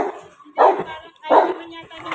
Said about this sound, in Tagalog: Ang laki ng tahol mga kalapatids eh no.